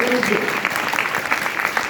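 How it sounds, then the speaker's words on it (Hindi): An audience at a gurukul sacred-thread ceremony discourse in Dehradun claps in a dense patter that follows a brief bit of speech at the start. "ताली बजाओ तो जोर से बजाओ"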